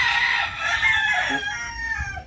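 Backyard chickens with hens and a rooster on fresh grass, a loud close crow stretching across the clip over soft clucking.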